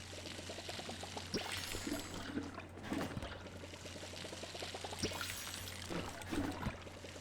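Water pours from a bucket onto planted crops in the farming game Palia, a steady trickling splash repeating in short bursts over a constant low hum and soft background music.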